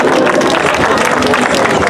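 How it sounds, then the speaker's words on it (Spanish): A crowd of about two hundred people on a cultural tour claps steadily, a dense, loud wash of applause mixed with cheering and murmured voices. "un aplauso para ustedes"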